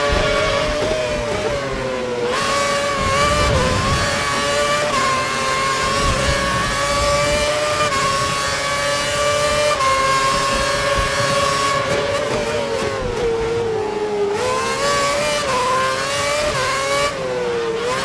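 A Formula 4 race car engine screams at full revs during an Australian F4 race, holding a loud, high sustained tone with brief pitch dips at gear changes, heard continuously for the whole stretch with no talking.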